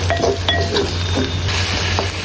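Onions and spices for handi chicken fry in a clay pot with a steady sizzle, broken by scraping stir strokes and light utensil knocks.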